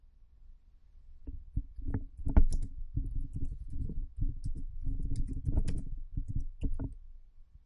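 Keys clatter on a computer keyboard as a report title is typed, a quick irregular run of close, crisp clicks with short pauses between bursts.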